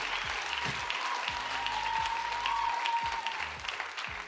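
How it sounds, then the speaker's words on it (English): Audience applause at a ten-year celebration evening event, a dense wash of clapping heard from a distance under a faint steady tone and some low rhythmic thumps, holding steady before easing slightly near the end. "that deserves an applause"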